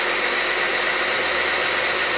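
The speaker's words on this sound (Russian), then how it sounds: "Звук мотора приятный, по ушам не бьет." Dreame H13 Pro wet-dry upright vacuum cleaner motor running steadily, a loud, even whooshing hum with a constant airflow hiss and low drone, heard close and alone without any voices.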